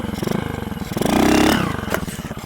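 A small motorcycle engine fitted to a BMX bike putters in quick pulses, then revs up into a louder whine before dropping back to a choppy idle, close by.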